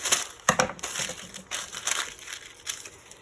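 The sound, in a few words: folding parchment paper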